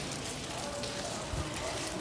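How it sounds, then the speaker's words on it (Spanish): Steady rain falls in Palermo, Sicily, a dense, even hiss heard from under shelter, with faint voices in the background. "Está aquí lloviendo, Ale acaba de comprar un paraguas y estamos a cobijo."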